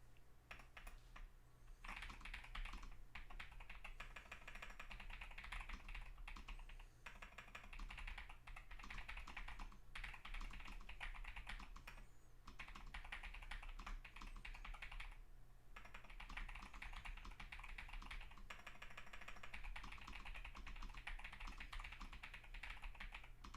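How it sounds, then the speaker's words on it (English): Rapid typing on a computer keyboard goes on steadily for over twenty seconds, a quiet stream of close clicks and taps broken by a few short pauses. "Just gonna start typing it because typing it saves it."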